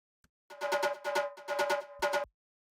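Short drum fill from an uplifting trance track: a quick run of tonal, pitched hits in clustered bursts, played alone and cleanly with a brief pause before the last flurry.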